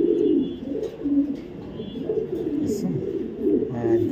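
Pigeons at a pigeon farm coo in low, throaty rolling calls, close and repeated throughout, with faint background chirps.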